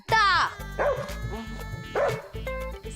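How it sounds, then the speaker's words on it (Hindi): A dog barks in a series of short, loud yips and bow-wows at a nighttime spot, with people speaking around the barks. "कुत्ता भौंक रहा है, कुत्ता।"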